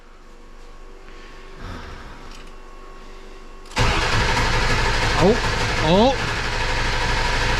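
A 2002 Ford 7.3 Powerstroke diesel cranks and fires for its first start, jumping suddenly from quiet to a loud, steady diesel idle that runs on. A brief spoken exclamation is heard close by, and a few chirping squeals rise over the rumble.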